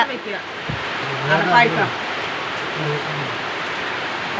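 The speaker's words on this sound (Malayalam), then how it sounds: "നല്ല മഴ" Heavy rain pours as a dense, steady broadband hiss, with a voice briefly speaking over it.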